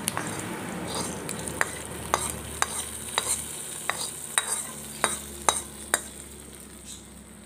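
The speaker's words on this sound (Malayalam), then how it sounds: "താളിച്ചത് ഇനി രസത്തിലേക്ക് ഒഴിച്ചു കൊടുക്കുകയാണ്." Hot tempering with curry leaves poured into drumstick-leaf rasam, a steady crackling sizzle with sharp, regular clicks and pops spaced about half a second apart, close and alone with no talk.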